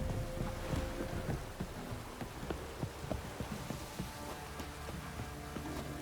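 Heavy downpour in The Witcher 3 video game, a constant hiss of rain with low rumbles of thunder and scattered thuds underneath, steady and moderately loud with no voices.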